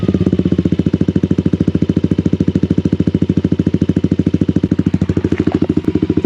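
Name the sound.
Yamaha Aerox motorcycle with Krace Ultra Samlong exhaust running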